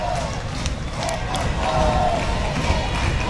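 Curacao fans cheer and roar from the stands at a 2019 Little League World Series baseball game against South Korea, a steady swelling crowd noise with a commentator's voice over it.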